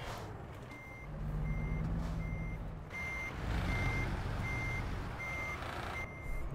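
Reversing beeps from a Peterbilt 567 truck in American Truck Simulator repeat in a steady, evenly spaced series over a low engine rumble, with no talk.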